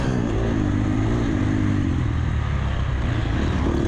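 A racing motorcycle engine drones loudly and close on a motocross track, its steady, buzzing tone wavering slightly as the throttle shifts, with no voices over it.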